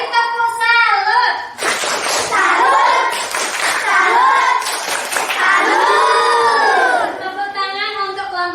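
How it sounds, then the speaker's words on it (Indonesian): Students in an Indonesian classroom perform a tepuk salut, chanting loudly together in a group and breaking into rhythmic bursts of clapping, close and lively. "Beri tepuk salut"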